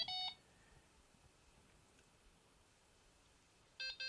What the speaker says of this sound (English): Wait for 2 beeps.